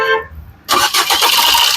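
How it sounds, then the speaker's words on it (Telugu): A 2017 Maruti Suzuki Baleno Alpha starts on a single crank: a brief starter whir, a short pause, then the engine catches loudly and settles into a close, steady idle. "సింగిల్ సెల్ఫ్ లో కార్ స్టార్ట్ అవుతుంది"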